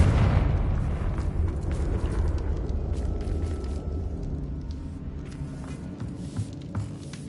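Confringo fire spell cast in Hogwarts Legacy, a deep rumbling boom that bursts loud at the start and then rolls on as a dense, crackling low roar, slowly fading over several seconds.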